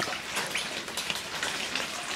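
Steady rain patters on a surface, a dense, even hiss of drops with no voices.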